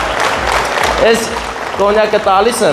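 Wedding guests applaud as the couple's parents are invited forward at an Armenian wedding celebration, brief bursts of clapping under and between a host's speech.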